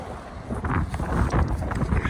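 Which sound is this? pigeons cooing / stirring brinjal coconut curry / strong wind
strong wind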